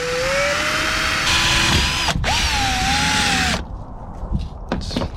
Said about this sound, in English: I'm gonna go ahead and start off with the little drill bit so I could get it centered.